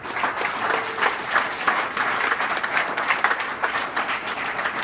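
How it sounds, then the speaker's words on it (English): Audience applause at a campaign stop at Loras College in Iowa, a steady dense round of clapping from a crowd filling the hall, sustained and fairly loud throughout. "Big round of applause for all you guys for coming out and showing you care"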